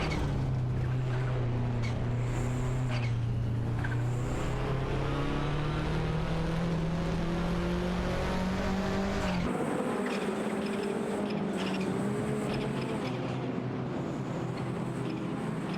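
Race cars, a Porsche 944 Turbo and a Ferrari 288 GTO, in a racing video game, engines roaring loudly with steadily climbing pitch, a sharp gear change midway, faint tire squeal, continuous with no voices.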